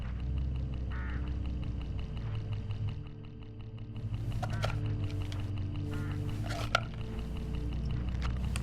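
Hooded crows caw along a road in a video game: a few harsh calls sound over a steady low engine-like rumble, moderately close and not very loud.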